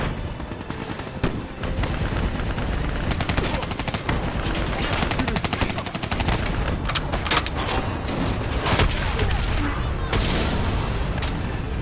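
Gunfire in Call of Duty: Black Ops 3 at a hangar, with sustained automatic bursts and heavy booms crackling throughout amid battle noise, with voices talking over the shooting.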